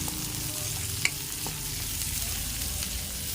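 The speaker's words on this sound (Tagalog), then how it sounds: "diyan na rin tayo maggisa ng ating sibuyas at bawang" Onions and garlic sauté in a pan while being stirred for adobong sitaw, a steady close sizzle with occasional scraping clinks of a utensil and one sharp tap.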